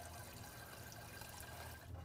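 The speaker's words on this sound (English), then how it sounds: "turn on the cold water, and let them run under some cold water" Cold tap water runs over boiled eggs in a pot, a faint, steady stream of splashing and trickling with no voices.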